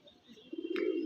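A Punjabi pigeon hen coos softly and briefly, a low rising warble close by with no talk over it.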